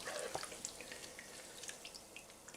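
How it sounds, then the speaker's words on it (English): Water fizzes quietly around a submerged Soviet PDF gas mask, faint scattered bubbly pops and drips over a soft hiss. "you can probably hear the water fizzing there"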